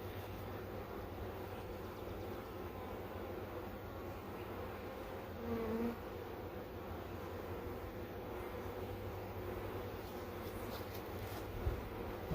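A honey bee swarm hums around a hive, a faint, steady droning buzz that continues unbroken throughout.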